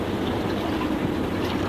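Water is poured into cooking masala while making besan khandvi, giving a continuous rushing, hissing wash that stays loud and even throughout, with no voices.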